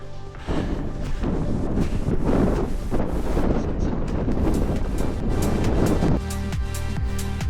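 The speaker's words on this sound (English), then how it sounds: "Super windy up here" Strong wind on Donner Summit, Lake Tahoe, California roars and buffets the microphone continuously, a loud rushing gust that barely lets up throughout.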